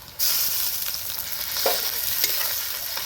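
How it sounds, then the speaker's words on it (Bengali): Garlic paste stirred and fried in a pan starts abruptly with a steady close sizzle, broken by a few scraping stirs of a utensil, with no one speaking. "রসুনটাও একটু নেড়ে চেড়ে হালকা করে ভেজে নেব"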